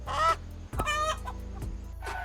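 Chickens on a farm in the video game Estate Agent Simulator give a few short, close clucks in quick succession, with a low steady hum underneath.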